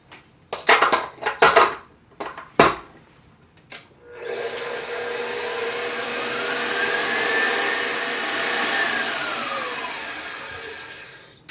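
An electric hand mixer whirs steadily as it beats egg yolks for a gluten-free chocolate Swiss roll, a continuous motor drone with rising and falling pitch, preceded by a few sharp clanks and knocks of bowl and utensils.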